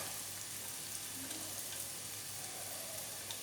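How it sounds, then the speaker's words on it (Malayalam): Carrots and cabbage fry in a pan with a steady, even sizzle that holds at a constant faint level throughout. "ക്യാരറ്റ് ഒന്ന് വഴന്ന് വരുമ്പോൾ അതിലേക്ക് കാബേജ് ചേർക്കാം,"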